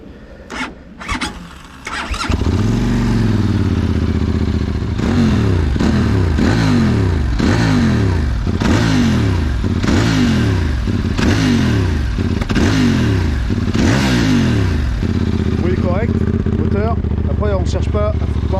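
A QJMotor SRT 600 SX motorcycle engine revs in repeated rising sweeps as it accelerates through gears, loud and close, with wind rush underneath.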